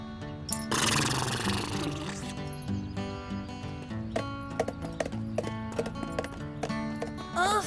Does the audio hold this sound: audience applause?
no